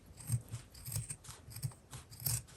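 Scissors cutting fabric from old pants, a series of crisp snipping cuts at a steady rhythm, close and fairly quiet.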